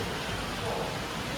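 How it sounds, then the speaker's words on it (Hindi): Heavy rain pours steadily around a train journey near Ghaziabad, a dense, continuous hiss with no pauses. "इतनी तेज बारिश है।"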